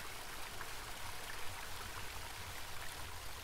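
Water runs steadily onto wood in a continuous soft stream-like trickle, close and fairly quiet, with no talking over it.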